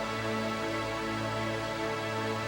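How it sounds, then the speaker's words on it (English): A huge, washy synth pad from a keys part fills the space, a dense sustained chord with a thick, bright wash of tone held steadily and loud with no pause. "That's a huge washy synth"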